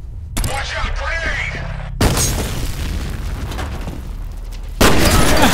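In the F.E.A.R. video game, a heavy grenade explosion booms alongside bursts of gunfire, loud and close, with a person speaking at the start.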